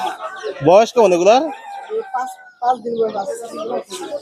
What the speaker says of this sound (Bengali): এখানে কি মুরগির বাচ্চা এগুলা টাইগার মুরগি খাসি মুরগি সোনালী